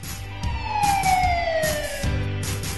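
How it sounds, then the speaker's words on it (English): A warning siren sounding during a village evacuation drill, a wailing tone sliding downward in pitch over a couple of seconds, moderately loud against background noise. "another siren will go off, alerting the villagers to move to the safer evacuation place using identified paths"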